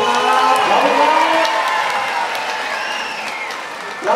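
A loud crowd at a concert at Safari World applauds and cheers with whoops throughout, the clapping close and sustained before easing slightly toward the end.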